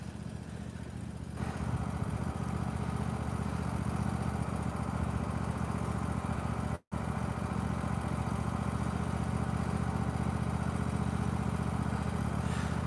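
A small tractor with a Kohler engine runs steadily while clearing snow, its loud, continuous drone holding at an even pitch throughout with no pauses.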